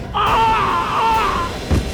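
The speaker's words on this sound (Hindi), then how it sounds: "ये चीख कैसी?" A person in a Hindi crime drama lets out a single loud, drawn-out scream lasting over a second that fades away, followed by a brief dull thump.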